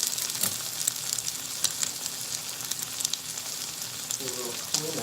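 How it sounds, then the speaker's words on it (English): A thick ribeye steak sears in a hot pan with a steady, close hiss and crackle throughout, sharp pops here and there, no talking. "this is probably the hardest part about cooking the steak, is creating the crust on the steak"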